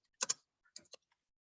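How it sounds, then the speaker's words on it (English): Fast typing on a computer keyboard, heard as a quick burst of clustered clicks followed by a few scattered keystrokes in an otherwise quiet room. "So I'm just typing quite fast."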